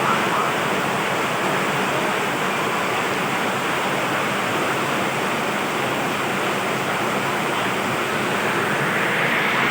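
Floodwater rushing into a house, a loud steady roar of churning water like a torrent or surf, continuous and unbroken throughout with no voices.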